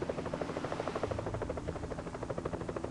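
Helicopter in the video game Evil Genius, a steady rhythmic rotor chop with continuous engine hum, fairly loud and unbroken throughout, with no voices.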